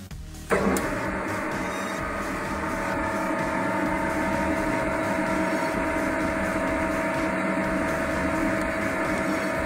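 A metal-turning centre lathe starts up and runs steadily as the tool post is wound along a piece of metal, giving a loud, constant machine hum and whine after a brief quieter lead-in, with no speech.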